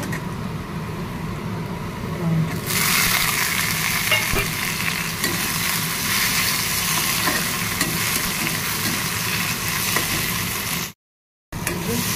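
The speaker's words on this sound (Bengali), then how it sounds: "পেঁয়াজগুলো লাল করে ভাজা হয়ে গেছে।" Onions frying in a pan and being stirred while preparing a fish curry, a constant loud sizzle with scraping stir sounds, close and steady, ending in a brief silent break.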